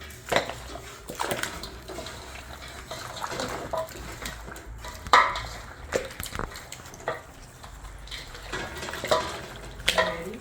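Green seasoning being mixed by hand into raw goat meat for curry, giving wet squelching and slapping sounds in irregular bursts, close and fairly quiet, with no talking.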